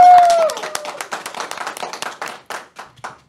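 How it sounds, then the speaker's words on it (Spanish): Audience clapping at a Spanish-language faith gathering, a burst of applause that thins into scattered individual claps and trails off over a few seconds, with a brief tone at the start. "nuestra productora Astrid Cabrera, para quien pido también un fuerte aplauso"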